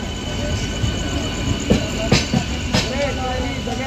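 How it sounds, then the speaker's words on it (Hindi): AP Express passenger train rolling out of Bhopal station, heard from inside a coach: a steady, loud rumble of wheels on track with a few sharp clacks and brief squeals, and faint voices in the background. "तो अपनी जो ट्रेन है भाई निकल चुकी है भोपाल रेलवे स्टेशन से"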